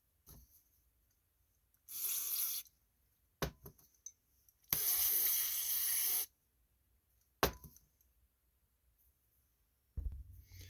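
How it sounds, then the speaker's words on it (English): Two long bursts of aerosol carburetor cleaner hissing close up into the holes of a 5 hp Yard Machine snowblower carburetor, separated by short clicks and handling noises, with quiet gaps between. "So we want to go ahead and get spraying every little hole there is."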